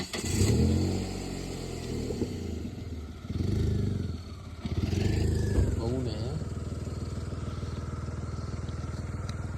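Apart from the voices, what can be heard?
vehicle driving on a potholed road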